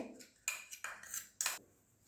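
A spoon clinks and scrapes in a bowl while chilli powder, chaat masala and asafoetida are mixed for an ajwain masala paratha, giving three or four short, bright strikes with quiet gaps between them.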